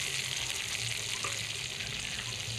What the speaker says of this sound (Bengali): কড়াইতে টমেটোর সাথে মশলাগুলো নেড়ে চেড়ে মিশিয়ে দিয়েছি